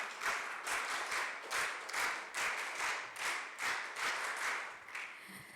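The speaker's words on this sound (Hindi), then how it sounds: "आप अपने आप के लिए एक बार वीर ताली बजा लीजिए" Girls at a character-building camp clapping for themselves in rhythmic unison, regular synchronized claps in bursts of about two per second, fairly faint and somewhat distant, with no talk over them.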